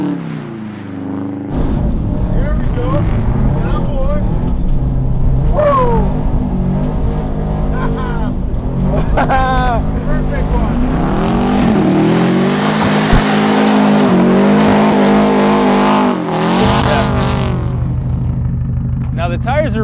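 Subaru rally car with straight-pipe exhaust, about 450 horsepower, running on studded tires, snarls loudly and close through repeated revving, shifting and accelerating bursts, with a voice talking over the engine.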